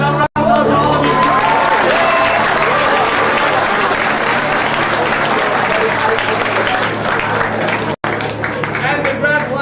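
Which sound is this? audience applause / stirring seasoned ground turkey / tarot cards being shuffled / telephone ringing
audience applause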